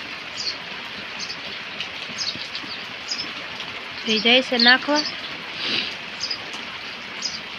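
A steady hiss of rain pours down throughout while a person speaks over it and a few birds chirp faintly in the background.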